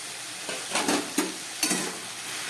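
Spinach-cabbage curry with potatoes is stirred and mixed in a pan, with a few scraping strokes of the spoon over a steady low sizzle.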